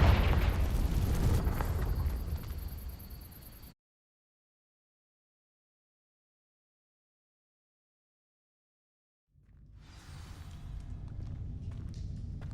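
Confringo fire spell cast at dry vines in Hogwarts Legacy: a loud, rumbling blast with crackling burst that cuts off abruptly into silence, followed several seconds later by another roaring, crackling eruption.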